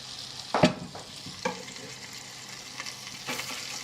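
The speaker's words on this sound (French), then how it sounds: "nous allons mettre dans le beurre les oignons et les carottes" Onions and carrots sautéing in butter for veal sauté, a low steady sizzle with a few clinking stirs and scrapes of a utensil against the pan, close and unaccompanied by talk.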